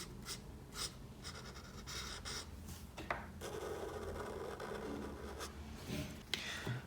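Marker pen scratching and rubbing across paper while coloring an emoji drawing, with a running-low-on-ink felt tip making short repeated strokes, soft and close, with brief breaths in between.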